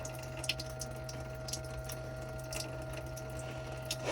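A low-tech immersible battery pump runs water through a cargo-trailer shower, a steady motor hum under soft, uneven splashing and trickling, faint and continuous.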